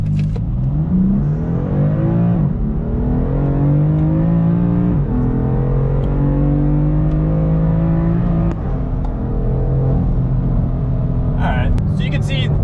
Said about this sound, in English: I'm just gonna nail the throttle, all right?